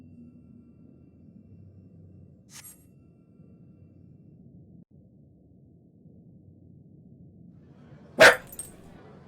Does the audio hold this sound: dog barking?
yes